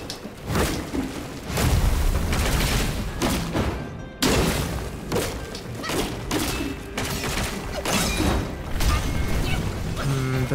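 Explosions in the video game Black Myth: Wukong boom and crash almost continuously, a dense, loud barrage of thuds and blasts with clanking effects layered on top.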